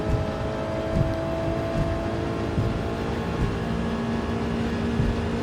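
A Toyota GR86 Gr4 race car engine in Gran Turismo 7, lapping Tokyo Expressway Central, hums steadily at a sustained mid-range drone with a faint gear-change ripple, loud and continuous with no talk.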